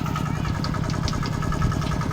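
A farm tractor engine idles steadily close by in a rural village, a continuous low rumbling chug with a regular pulse and no breaks.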